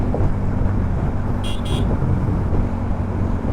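A Dhaka–Mymensingh road bus sounds its horn in two short, loud blasts amid a constant roar of road traffic and engine noise.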